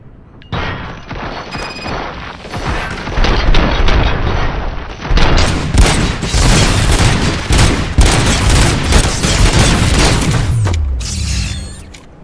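Heavy gunfire roars through a firefight in the Robocop Rogue City video game: loud, continuous bursts and booms from several weapons overlapping for over ten seconds, with a short lull near the start and a fade at the end.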